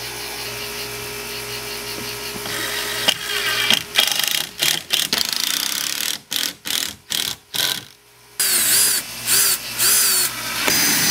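A power drill driving screws into the wood framing of a cabin, running in a long whine and then in short repeated bursts that stop and start, close and loud with no speech.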